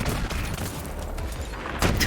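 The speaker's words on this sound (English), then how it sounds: "Yeah, it's a turret." Automated turret fire in the Borderlands 3 video game: a dense, sustained burst of rapid gunshots that stays loud and close for the whole stretch and swells briefly near the end.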